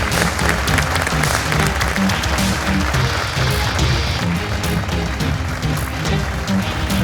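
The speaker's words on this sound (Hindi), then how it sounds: "जोरदार तालियों से स्वागत कीजिए" Loud, dense audience applause welcomes a mentor onto the stage at a startup pitch event. The clapping continues steadily throughout, with a crowd murmur and faint background music underneath.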